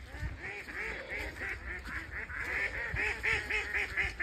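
Ducks quack and honk in a steady, overlapping chorus close by, at a pheasant and duck rearing site, over low background rumble.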